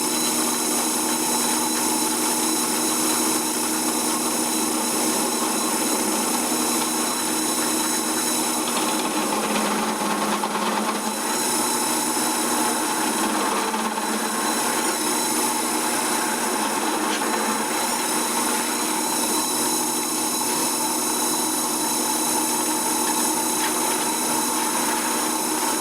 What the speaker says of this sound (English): I'm going to use one of these step drills to drill these bigger holes